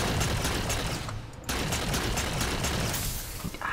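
A dense, continuous roar of gunfire in Halo 4 as a grunt is shot again and again, steady and loud with one brief dip midway.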